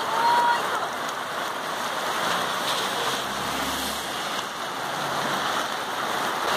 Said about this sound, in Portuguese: Olha a chuva que tá caindo!